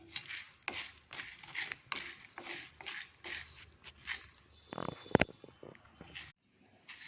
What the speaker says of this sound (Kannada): ಕಡಲೆಬೇಳೆ ಮೆಣಸು ಮೆಂತ್ಯ ಈ ಮೂರನ್ನು ಒಟ್ಟಿಗೆ ಹಾಕ್ಕೊಳ್ತೀನಿ